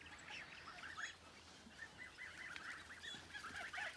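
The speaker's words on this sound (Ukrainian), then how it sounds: "Гуси все пасуть." Grazing geese honk repeatedly at a distance in a village, a faint, irregular chorus of calls over quiet outdoor background.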